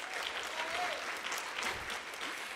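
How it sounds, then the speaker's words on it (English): An audience at an opening gavel ceremony breaks into a big round of applause, a dense, steady burst of clapping from many people, moderately loud, with a few faint voices underneath. "let's give that a big round of applause"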